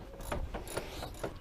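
A ratchet wrench clicks in quick repeated bursts while taking apart a Mazda Miata engine in a garage, several close, moderately faint ratcheting strokes with no talking.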